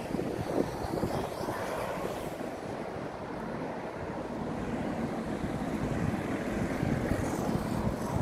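Wind gusts across the microphone in an outdoor town square in Coalville, UK, a continuous rumbling buffet with rising and falling surges, with no one speaking.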